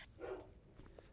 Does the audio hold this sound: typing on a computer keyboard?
no